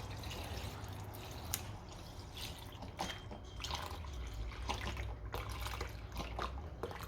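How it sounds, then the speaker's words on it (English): Milk is poured into a custard mixture of eggs in a kitchen, a faint continuous liquid trickle and splash with small drips, close and quiet, with no talking. "And now we're going to add milk, and we're going to bring it up to equal 1 litre in liquid."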